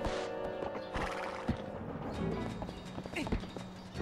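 Horse in Zelda: Twilight Princess neighing and whinnying loudly, with clip-clop hoofbeats and game effects layered over a busy, continuous soundscape.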